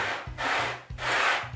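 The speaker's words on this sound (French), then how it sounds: "poncer mon poussoir de sécurité" Hand sanding of a wooden safety push stick in a woodworking shop, two long rasping back-and-forth strokes close up, steady and loud with no talk.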